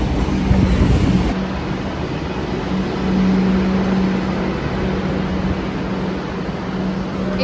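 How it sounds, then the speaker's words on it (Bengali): A metro train pulls into a station with a loud, steady rumble and a droning hum, and a thin high whine rises partway through as the cars roll in close by. "তো মেট্রো এসে গেছে"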